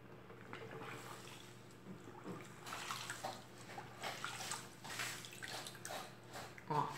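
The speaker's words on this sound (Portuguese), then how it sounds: "Eu vou lavar a esponja." A kitchen sponge is rinsed and squeezed in a basin of oily water, giving soft splashing, dripping and sloshing in uneven bursts, fairly quiet, with a clearer splash near the end.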